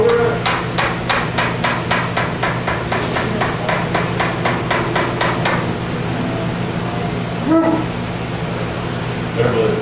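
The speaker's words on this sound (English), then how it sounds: "Put your chisel right in the middle." Steady series of sharp hammer blows on a chisel driven into wood during a woodworking demo on flat work, about a dozen evenly spaced close strikes, then a quieter stretch with a couple of louder knocks near the end.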